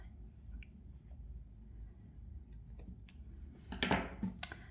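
Scissors snip crochet yarn on a finished pumpkin: faint rustling and small handling clicks at first, then a couple of close, crisp snips near the end over a quiet background.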